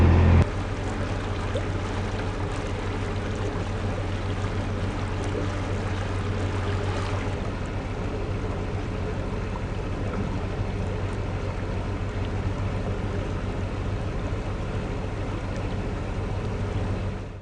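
A canal boat cruising on the River Avon near Bredon Hill, its engine a steady low rumble with water wash running the whole way through, close and continuous, with no talk.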